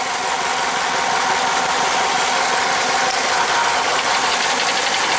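A 2009 Chevy Cobalt engine idling with a constant misfire on cylinder 3, a steady close mechanical hum with a fast ticking, uneven pulse running throughout, no voices.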